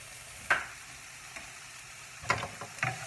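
Vegetables for lasagne cook in a pan with a few separate scrapes and sizzling bursts, one early, then a cluster near the end, over quiet background hiss.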